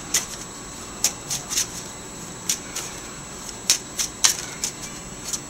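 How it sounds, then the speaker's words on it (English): Playing cards being shuffled, a series of quick, crisp riffling bursts at irregular intervals, close and fairly quiet, with no talking. "I'll just shuffle my cards while you do that"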